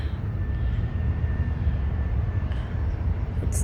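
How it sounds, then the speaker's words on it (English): A United Embraer 140 regional jet taxis at Dulles airport, its steady engine rumble and broad roar continuous and moderately near, with a faint whine running through it and no talk. "A United Embraer 140 is waiting for us to film."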